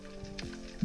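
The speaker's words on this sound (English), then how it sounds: "that squeaking sound you can hear is my messed up ear" A spearfisher's damaged ear squeaks underwater while diving in South Australian waters: a steady, thin whining tone persists throughout, with soft bubbly crackle and a brief broadband rush near the middle.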